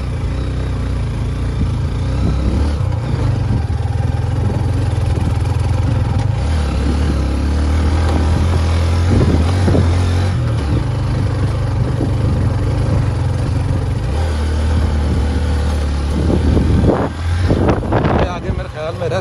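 A motorcycle climbing a rough 4x4 jeep track up to a lake, its engine droning steadily and loudly throughout, mixed with heavy wind noise against the microphone.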